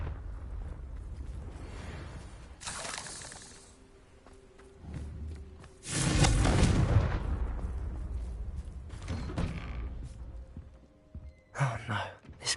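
A Confringo blasting spell goes off in Hogwarts Legacy, a loud rumbling burst that swells and lingers for several seconds. Softer game sounds and scattered hits come before and after it.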